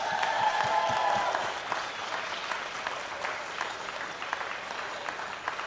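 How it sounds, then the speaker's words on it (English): A crowd at an International Women's Day event at Dandenong Market applauds outdoors, the clapping fullest at first and then thinning to a lighter, scattered patter. "big round of applause, whatever you can do."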